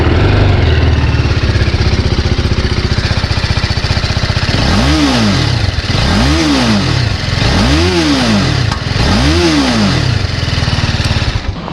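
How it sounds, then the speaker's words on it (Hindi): 2021 TVS Apache RR310 BS6 motorcycle running loud and close, a steady engine and exhaust drone that rises into four evenly spaced revs, each climbing and falling back in turn. "ये बाइक का साउंड, जो एग्जॉस्ट का साउंड है"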